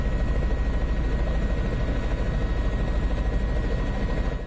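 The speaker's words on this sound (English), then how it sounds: "might be a New York Police Department helicopter" An NYPD police helicopter flies overhead in New York, heard as a steady, continuous rotor drone that stays loud and even throughout, with no voices.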